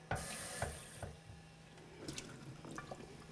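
Tap water runs into a kitchen sink while zucchini flowers are rinsed, a steady close stream broken by splashes and drips as the flowers are handled.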